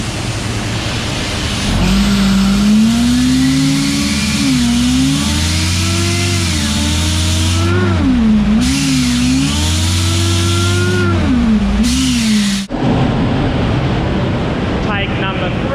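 Supercharged Ford AU Falcon engine on a dyno, revving hard in long sustained pulls with rising and falling pitch, loud and close, cutting off abruptly near the end.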